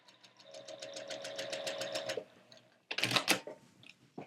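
Domestic sewing machine stitching a quilt block, a fast even run of needle strokes for about two seconds, then a pause and a brief burst of rustling fabric handling, close and fairly quiet.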